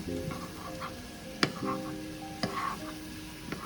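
Oat flakes with honey scraped and stirred in a pan for granola, with quiet caramelising sizzle, soft scraping strokes, and occasional sharp clicks of the utensil against the pan.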